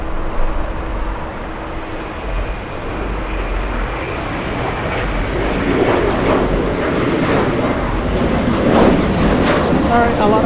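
Boeing 787 airliner at Los Angeles International Airport, a broad jet engine roar that swells gradually and stays loud through the second half, heard from a distance with faint talk underneath.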